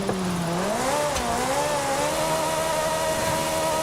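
A car engine in Forza Horizon 5 revs up and holds high RPM in a steady, loud whine with rising and falling pitch, the game car driven with a steering wheel while drifting.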